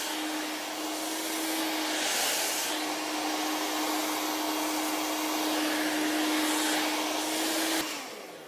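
A blow dryer drying a wig runs with a steady airy roar and a thin whine, dipping briefly near the start before cutting off toward the end.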